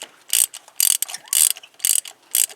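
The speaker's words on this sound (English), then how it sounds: "a good rule of thumb is just hand tight with a ratchet" A ratchet tightens a spark plug on a Ford F150 5.4, giving five quick bursts of close, crisp clicking in an even back-and-forth rhythm with brief pauses between strokes.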